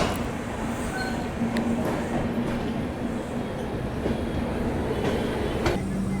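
Inside a coach of the Indore Amritsar Express on the move, a steady loud rumble of wheels on rails runs throughout, with occasional faint clicks and rattles of the carriage.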